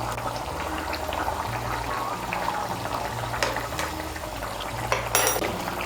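Ghee and garam masala powder stirred into a potol dhokar dalna curry in a pot. A steady bubbling simmer carries light scrapes and clinks of a spoon against the pot, up close and without speech.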